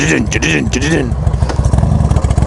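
A motorcycle engine fitted with a Hammer Performance 1275 kit idles with a lumpy, uneven throb, loud and close, while a person talks over it at first.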